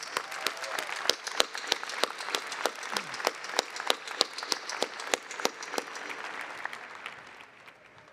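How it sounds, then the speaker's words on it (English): An audience at a college commencement ceremony breaks into applause, sharp individual claps ringing out in a steady patter across a large hall, gradually thinning and fading toward the end. "So please join me in a round of applause."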